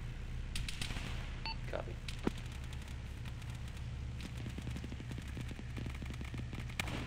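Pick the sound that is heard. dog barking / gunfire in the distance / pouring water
gunfire in the distance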